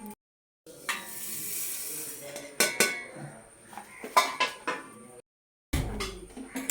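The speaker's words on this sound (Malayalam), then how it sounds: "ഉലുവ കടല് വറക്കണം." Fenugreek and mustard seeds roast in a pan on a stove for mango pickle, with a soft hiss and repeated metal clinks and scrapes of a utensil against the pan, broken by brief silences.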